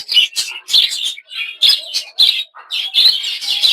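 Pet birds in a winter breeding cage chirp loudly and close up, a dense string of bright, overlapping tweets with only brief gaps between them.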